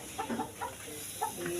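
Chickens cluck in short, scattered bursts at a village home, fairly close but not loud, with no talk over them.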